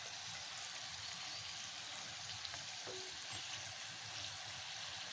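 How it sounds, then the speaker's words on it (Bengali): Labanga latika sweets fry slowly in oil over very low heat, giving a faint, even bubbling hiss that stays soft and steady throughout. "এরকম ধীরে ধীরে এগুলো খুব ধিমে আঁচেই ভাজতে হয়"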